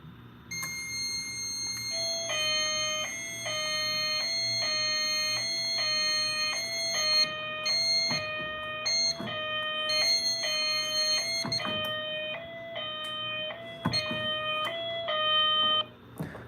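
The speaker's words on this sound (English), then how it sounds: "This one will send it into general alarm." An SK 5700 fire alarm panel in general alarm sounds a repeating pattern of bright electronic tones, steady and fairly close, cycling evenly for over fifteen seconds with no talking.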